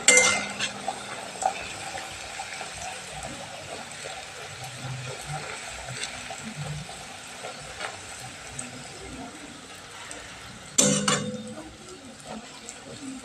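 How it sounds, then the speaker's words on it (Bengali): Luchi are lifted out of and slipped into hot frying oil: a continuous sizzling hiss, with metal utensil clinks against the pan at the start and again near the end. "এবার আমি লুচিটাকে তুলে নিচ্ছি তেলের মধ্যে আবার পরের লুচিটাকে আমি দিয়ে দিলাম"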